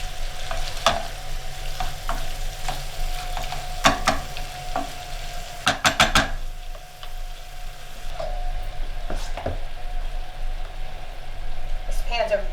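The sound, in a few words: shrimp frying and being stirred in a heavy pan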